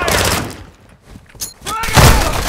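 Gunfire in Call of Duty: Modern Warfare II, with loud bursts of shots and heavy thuds broken by a brief lull, mixed with game voices shouting.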